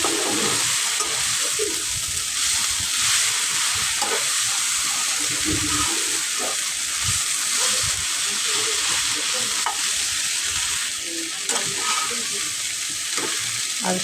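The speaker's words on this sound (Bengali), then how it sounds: "কচি পাট শাক হলে নেড়ে চেড়ে লবণ দিয়ে 2 মিনিটে হয়ে যায় ঢেকে দিলে।" Young jute leaves stir-fried in a pan give off a steady close sizzle, with scraping and clinking stirring strokes scattered throughout and no voices.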